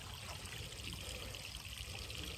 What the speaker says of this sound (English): And now I can hear the water running, traveling down that pipe.